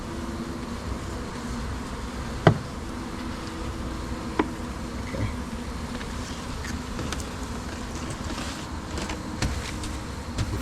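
An African honeybee colony in a borehole, a steady, dense buzz of many bees droning close and continuously, with a few brief knocks and clicks standing out over the hum.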